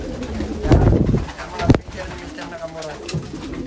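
Racing pigeons coo softly nearby in a loft in a low, rolling rhythm, with a few wing flutters and scuffling bursts amid a faint steady hum.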